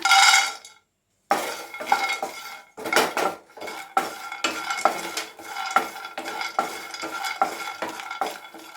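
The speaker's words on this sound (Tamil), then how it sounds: "இப்போ கடலையும் வறுத்தாச்சு" Peanuts dry-roasted in a pan for ragi laddu, stirred with a metal spoon that scrapes and clinks in a quick irregular rhythm, loud and close, after a brief pause near the start.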